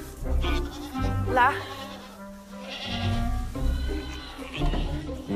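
Goats bleating at close range on a French farm, several short wavering cries rising over one another, with someone talking to the animals between and over the calls.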